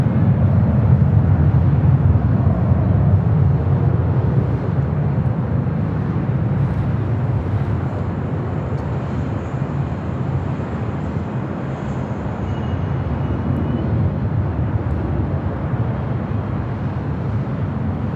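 A Virgin Atlantic Airbus A350 airliner arriving at LAX from London Heathrow, heard as a steady, broad, loud jet roar that holds evenly throughout with no talk over it.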